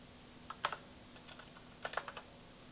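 Light typing on a computer keyboard while writing C++ loop code: two short bursts of faint, close key clicks separated by a pause, over a quiet hum.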